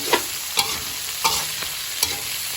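Fried crickets dry-roasted in a pan with salt, kaffir lime leaves and lemongrass: four sharp scrapes of a stirring utensil, about half a second to a second apart, over a steady faint sizzling hiss, with no voices.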